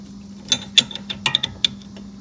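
Several quick, light ratcheting clicks come from a wrench turning an 8 mm bolt on the rear sway bar link of a 2009 Chevrolet Malibu LT. They are close and crisp, with a faint hum underneath.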